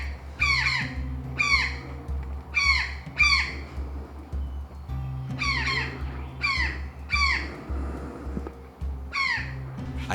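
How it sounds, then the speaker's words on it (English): A brown jay in Belizean forest along a trail gives loud, harsh squawking calls in repeated bursts, about a dozen raspy cries in two clustered series, close and prominent over a low steady background hum. "I managed to capture this very loud brown jay"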